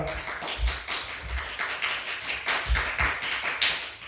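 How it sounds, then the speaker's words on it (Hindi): Clapping from a small group at an Independence Day celebration, uneven slaps and taps with soft low thumps, close by and moderately quiet with almost no talking. "ये यहाँ ये आप तालियों का आवाज़ जो सुन रहे हैं"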